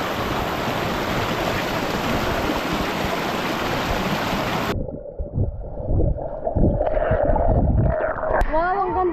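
Small waterfall at Mini Falls in Langan, Sta. Cruz, Davao del Sur, its flowing water a loud steady rush that cuts off abruptly, followed by voices talking and exclaiming over a quieter background.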